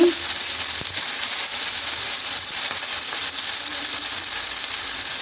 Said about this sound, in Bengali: এই তো একটু নাড়াচাড়া করে ভেজে নিচ্ছি।